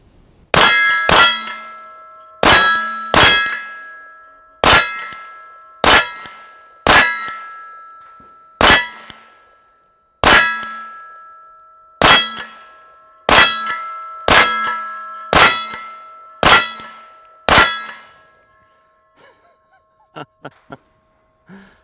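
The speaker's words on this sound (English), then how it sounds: "45 ACP against pistol steel. That's a great sound." Sharp metallic clangs of .45 ACP pistol bullets hitting a steel target ring out one after another, pairs and single hits spaced about a second apart, each ringing briefly, ending with faint distant taps.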